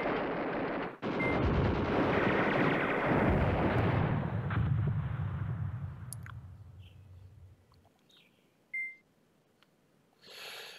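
Artillery fire in the war game Command Ops 2 sounds as a dense run of booming blasts for several seconds that thin out and fade, followed by a couple of isolated distant thumps and beeps.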